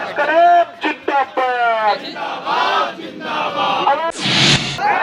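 A crowd of TET-STET qualified teachers chants loudly in unison at the Gardani Bagh sit-in in Patna. Voices rise and fall in rhythmic slogans, then a sudden burst of roaring noise follows near the end.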